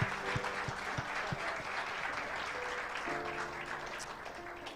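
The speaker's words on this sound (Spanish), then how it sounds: "Dele ese fuerte aplauso al Señor por esta palabra." Church congregation applauding during a Spanish-language worship service, a dense steady wash of many hands clapping throughout, with a few sharper nearby claps standing out.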